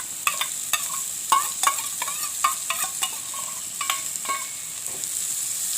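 Leeks, onion and chilies sauté in a pan for Jaffna-style bread kottu, with a quiet sizzle under a quick, irregular run of sharp spatula taps and scrapes against the metal.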